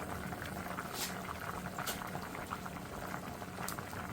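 A pot of string beans simmering with smoked turkey, giving off a steady bubbling boil with soft popping and liquid patter throughout, fairly quiet and close, with no speech.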